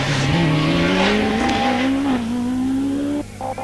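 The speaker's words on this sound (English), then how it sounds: "Quickly upshifting across the parkland is Kelvin Broad with the Force TA." Force TA race car at a hillclimb in Wiscombe Park parkland, engine loud and close, revs climbing in steady stretches broken by quick upshifts, with a sharp drop in engine note near the end.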